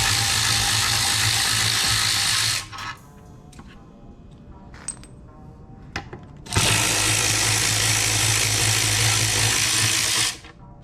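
A ratchet backs out clutch pressure plate bolts on a turbo K20A engine with a rapid, loud clicking whir, in two bursts separated by a few seconds of quieter handling clinks.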